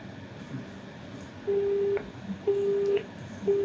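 A returned call to a scam call center rings unanswered: short, steady electronic tones repeat about once a second over a faint line hiss, with no voice.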